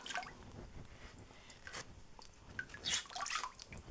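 A sponge mops water from beneath a freshly formed handmade paper sheet, giving soft close squishes and scattered drips, with a few brighter wet splats toward the end.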